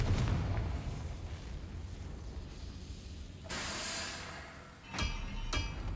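A Confringo fire spell in Hogwarts Legacy bursts with a deep booming explosion and a hissing rush, followed by two sharper cracks, over a low rumbling game background.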